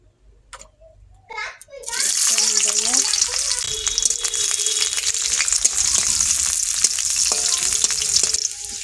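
Oil heats in a kadai wok, then bursts into a loud, steady frying hiss after a quiet start, with voices, including a child's, talking over the sizzle.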